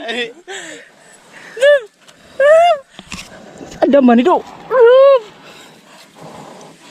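A dog barks and yelps several times in short bursts, close by, with people talking and chattering around it.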